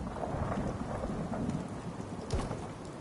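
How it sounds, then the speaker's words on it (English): A thunderstorm in Fallout 4 brings steady, dense rainfall with rumbling thunder rolling underneath and a sharper crack near the end, loud and continuous throughout. "The lightning sounds pretty badass"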